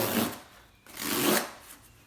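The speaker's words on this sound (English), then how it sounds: "So it's gonna be a bit of rustling" Plastic and paper parcel packaging holding fabric and labels rustles and crinkles as it is opened, two close, soft swells of crackling with a brief pause between.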